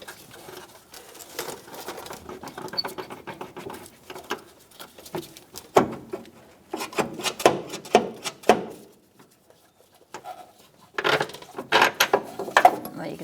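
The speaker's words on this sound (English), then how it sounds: "Now you can get the other bolt out." A bolt comes out of the front control arm of a 2005-2010 Chrysler 300. Intermittent bursts of close ratcheting clicks and metal scraping are separated by short quiet pauses, with no talking.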